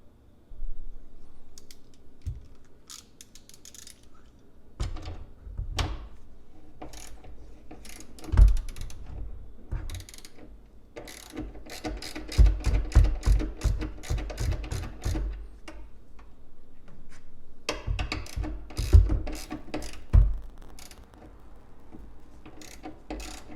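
Ratchet wrench loosening a 13 mm battery nut on a 987.1 Porsche Cayman, heard as bursts of quick close clicking and metallic rattles with pauses between, fairly loud and without speech.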